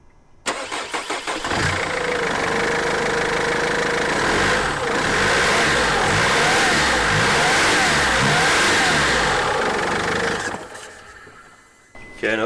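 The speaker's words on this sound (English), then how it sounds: "I'm just going to start the car and give it a rev" A Mercedes 220 CDI diesel engine (OM646) starts, revs up and holds a loud, steady roar for several seconds, then drops back toward idle.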